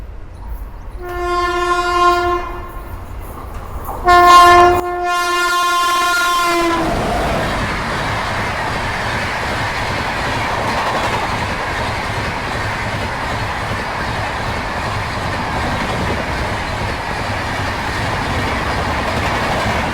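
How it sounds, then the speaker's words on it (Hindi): The Shatabdi Express passes Vatva railway station in India. Two loud horn blasts are followed by a long, steady rumble and clatter of carriages rolling through close by. "तो आप कैप्चर करते हैं हमारी शताब्दी एक्सप्रेस को।"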